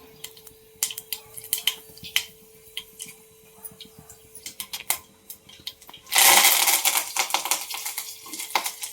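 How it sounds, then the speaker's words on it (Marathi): Cumin, mustard seeds, curry leaves and chilli hit hot oil on a traditional wood-fired clay stove. Scattered sharp pops and crackles come first, then a sudden loud burst of dense sizzling spluttering that continues with irregular snaps, close by. "आधी थोडंसं घेतलंय तेल तापले, जिरे मोहरी कढीपत्ता आणि मिरची टाकायची."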